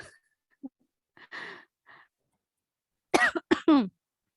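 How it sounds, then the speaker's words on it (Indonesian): A few soft coughs and throat sounds, followed by a short burst of harsher coughing, close and isolated in a quiet room. "Saya batuk-batuk nih."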